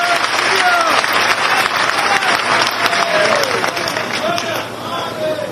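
An audience at a public ceremony honouring Peshwa Bajirao I claps loudly and continuously in a dense, steady wave of applause with crowd murmur, welcoming a guest minister.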